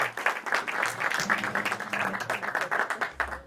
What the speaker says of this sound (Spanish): le vamos a dar un gran aplauso